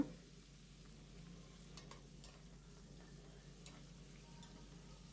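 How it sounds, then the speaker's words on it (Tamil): Onions are sautéing in hot oil in a pan as the base for a squid gravy, a faint, steady sizzle and crackle that continues evenly throughout with no talking. "எண்ணெயிலே நல்லா வதங்கட்டும்"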